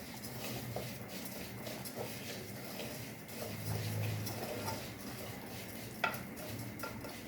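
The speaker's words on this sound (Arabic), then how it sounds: "ونقلب الشعريه لغايه ما تحمر" Vermicelli is stirred in a pot while it browns for Egyptian koshari, a steady near scraping and light sizzle with soft clinks of the spoon and no talk.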